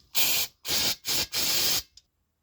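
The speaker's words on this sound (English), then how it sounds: "And I just need to clean the excess oil with brake cleaner." Brake cleaner is sprayed onto excess oil during a manual transmission oil change, in four loud, close hissing bursts separated by brief pauses, the last one longest, followed by a tiny clink and silence.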